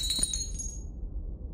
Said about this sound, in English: Plate smashed?